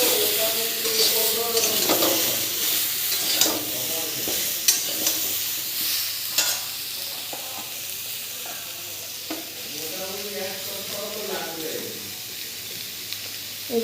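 Raw mango pickle fries over low heat in a pan, a continuous close sizzle broken by repeated scraping stirs of the spoon, with a voice talking over it.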